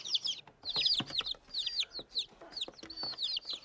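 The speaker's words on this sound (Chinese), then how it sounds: "小鸡在里边啊，就跑得开了。" Chicks cheep inside a box, a busy stream of high, quick peeps overlapping in irregular clusters, close and fairly soft.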